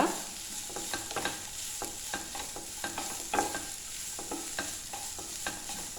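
Carrots and beans sautéing in a pan, with a steady low sizzle under repeated light scraping and tapping strokes from a spatula, quiet and close, with no talking.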